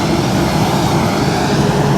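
A large passenger airliner's engines roar in a steady, loud, unbroken drone heard from inside the cabin.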